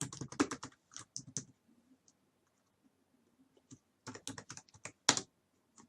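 Someone types on a computer keyboard while coding in Java, in two quick clusters of close, crisp key clicks separated by a quiet pause.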